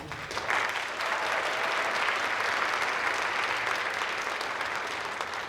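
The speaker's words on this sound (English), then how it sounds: "Let's give another round of applause for our MCs" Sustained audience applause at an MLK Day event, a dense, even round of clapping from a large crowd that holds steady throughout.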